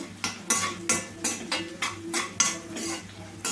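A utensil scrapes and taps against a pan in a steady rhythm, about two strokes a second, over a soft sizzle of onions frying for a tempering.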